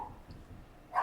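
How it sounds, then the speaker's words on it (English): A pet dog barks a couple of times from another room at the very end, fairly faint and brief, after a stretch of quiet room noise. "oh, that's my dog barking"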